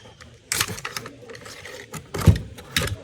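A Ruger AR-556 rifle's oily bolt and action are worked by hand, giving a few close metallic clicks and sliding clacks in short bursts over a quiet background.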